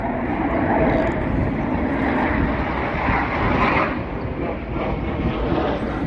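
A fighter jet passes overhead in Taiwan, its loud, broad engine roar filling the whole stretch, steady and close, swelling slightly before easing, with no talk heard over it.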